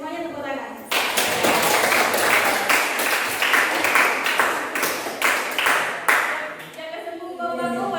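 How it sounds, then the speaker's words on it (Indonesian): A group of listeners bursts into applause after a group presentation. The clapping starts abruptly, holds dense and steady for several seconds, then thins out, with voices murmuring underneath. "Ayo semuanya tepuk tangan."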